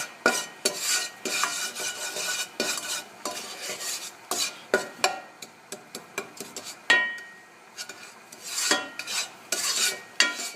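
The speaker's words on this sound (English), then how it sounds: "So I'm moving it around. And I'm using my wood spoon because I don't want to ruin the pot." A wooden spoon stirs and scrapes chicken browning in a pot for Dominican-style stewed chicken, with irregular close scraping strokes over a soft steady sizzle and no talking.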